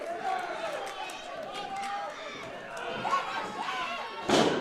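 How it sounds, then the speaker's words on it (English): A wrestler's big body slam onto the ring lands as a sharp, loud thud near the end, following a stretch of crowd noise and commentary talk. "Big slam."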